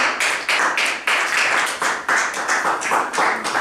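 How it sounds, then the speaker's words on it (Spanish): A church congregation claps for the Lord in a Spanish-language service, bursts of hand claps arriving in uneven waves, loud and close, with no talking. "puede darle un fuerte aplauso al Señor"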